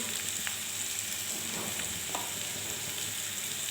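Papaya and chickpeas fry with cumin, turmeric and salt in a pan, giving a steady, close sizzle that holds throughout with a few faint scrapes of stirring and no talk.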